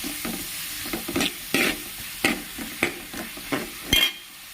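Onions sautéing in a pan for a home-style chicken curry, with a soft steady sizzle broken by repeated short scraping stirs at an uneven rhythm, close and moderately loud.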